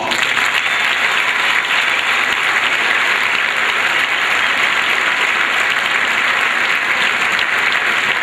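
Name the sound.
applause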